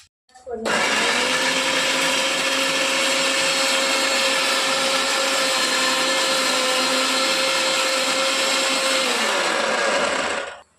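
An electric mixer grinder grinds spices in a home village kitchen, starting abruptly and running at a loud, steady, high-pitched whine for about ten seconds before spinning down.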